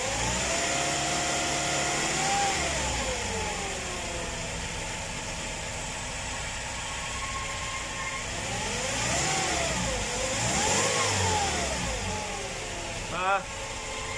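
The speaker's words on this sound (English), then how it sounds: "Bigyan mo na ng RPM, kunti." A Toyota Hiace van engine, just repaired with a new fan belt and tensioner, idles and is revved in several gentle rises and falls, close and steady, with people talking nearby.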